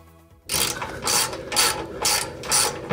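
A ratchet wrench tightens bolts while RCI rock sliders go onto a 5th-gen Toyota 4Runner TRD Off-Road: after a quiet start, close, loud rapid ratcheting comes in about five rhythmic bursts.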